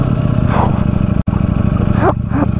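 A stock-exhaust motorcycle engine runs steadily up close, a loud continuous low rumble with a brief cut near the middle, and a voice talks over it in places.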